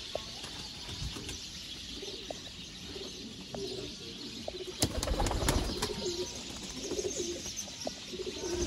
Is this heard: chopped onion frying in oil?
no